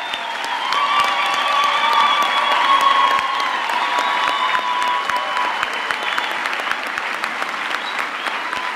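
A graduation ceremony audience breaks into loud, sustained applause with cheering mixed in, a dense wash of clapping that holds steady throughout.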